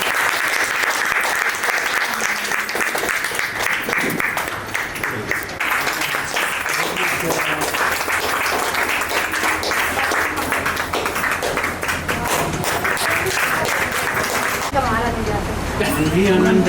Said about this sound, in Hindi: एक बार आनंद सर के लिए जोरदार तालियां।